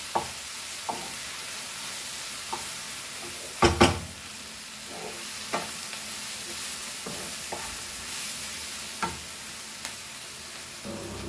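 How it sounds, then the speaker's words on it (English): Chicken kheema masala fries in a pan, a soft steady sizzle running underneath while a spoon scrapes and stirs it in regular, repeated strokes, with one louder clatter in the middle. "Let this masala nicely fry with this all."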